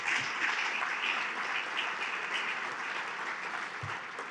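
A dinner audience at an entrepreneur inductee event claps steadily for several seconds, a dense, sustained round of applause that holds at an even level before easing slightly toward the end.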